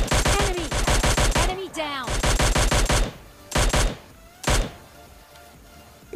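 Mini 14 rifle fire in PUBG Mobile Lite, loud rapid bursts of repeated shots, several volleys separated by short pauses, with a brief lull and softer game sounds between them.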